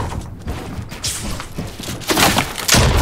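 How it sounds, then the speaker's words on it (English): Wooden wall in the Fortnite video game splintering and breaking apart under sniper fire, a run of cracking, splintering thumps that grow louder and denser toward the end, with a heavy low impact closing it out. "Someone just sniped that wall and it actually helped."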